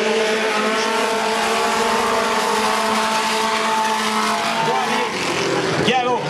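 Race cars lapping the track at Drummond, a loud continuous engine roar with shifting pitch under French race commentary, ending in a short burst of rising whine.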